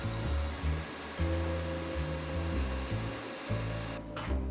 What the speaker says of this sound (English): I found the right pins for the power cable and I was able to start the computer.